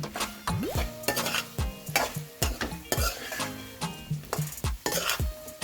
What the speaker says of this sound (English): Time to add in there the paneer we seared. Give it a good mix.